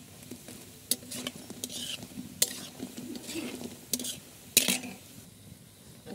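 Lentil fritters (bora) fry in mustard oil in a pan, a soft steady sizzle broken by sharp clinks and scrapes as a utensil stirs and turns them, close and fairly quiet.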